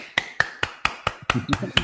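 A lone person claps for a gaming tournament match, giving about eight sharp, steady claps close to the mic. A voice speaks under the last few.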